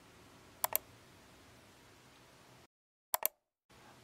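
Mouse clicks while working in SPSS come as two quick double clicks, crisp and close, about two and a half seconds apart, in an otherwise quiet room.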